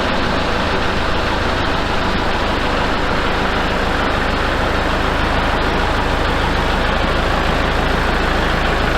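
Diesel engine of a power washer running steadily after its glow plugs have warmed, a loud, constant rumbling drone that stays close and unbroken throughout, with no voices.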